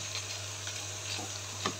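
Two bay leaves sizzling in hot oil for dal khichdi, a close, steady fry with a low background hum and a couple of brief stirring scrapes.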